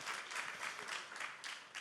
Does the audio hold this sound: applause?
yes